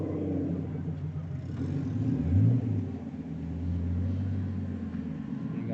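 Drift car engine on a race track at a drift competition, a steady loud rumble with a brief rise in revs mid-clip, consistent with a downshift to second gear.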